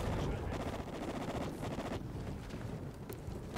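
Gunfire from the online multiplayer shooter Call of Duty Ghosts, played on PS3, a dense continuous barrage of rapid shots with a windy, roaring background, loud throughout with brief voice bits.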